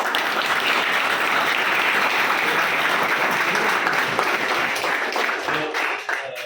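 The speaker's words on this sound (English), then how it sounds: "So let's welcome him with a good round of applause." A full round of applause from an audience at a gathering welcoming a student recommended for NDA, many hands clapping densely and evenly for several seconds before tapering off near the end.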